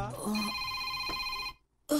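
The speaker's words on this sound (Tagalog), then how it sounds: "May nanawag." Telephone ringing in a Bisaya radio drama, a short, loud electronic ring with bright sustained tones that stops abruptly, followed by silence and then the start of another burst.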